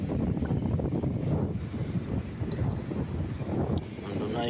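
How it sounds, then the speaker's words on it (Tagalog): Strong wind from Typhoon Uwan buffets the microphone at the coast, a loud, continuous gusting roar with heavy low rumble, while a person speaks faintly in the background. "Palakas ang hangin at papalaki ng palaki ang alon."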